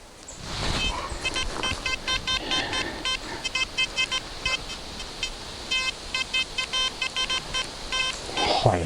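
A metal detector sweeping woodland for buried treasure sends out bursts of rapid electronic beeps, close and loud, repeating in choppy clusters over constant background hiss.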